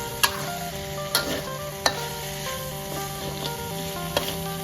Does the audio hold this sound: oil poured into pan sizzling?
yes